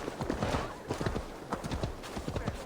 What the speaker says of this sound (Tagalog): Bagal naman ng kabayo.